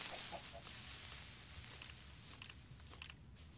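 Chickens cluck in the video game Minecraft, short soft clucks scattered over a steady game background hum, faint and without speech.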